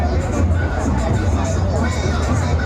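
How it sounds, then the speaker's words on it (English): Dense crowd hubbub at a football match in Comuna 13, Medellín, a steady murmur of many voices and shuffling that carries evenly throughout without a clear break. "Though there's a football match, you can see the crowd."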